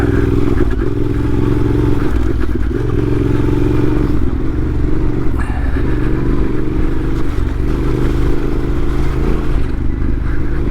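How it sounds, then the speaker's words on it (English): A Yamaha T7 motorcycle with a full Black Widow exhaust system rides a long green lane, its engine a loud, steady, close drone that runs unbroken throughout. "What you think to the sound of this bike. It's got the full Black Widow exhaust system on it."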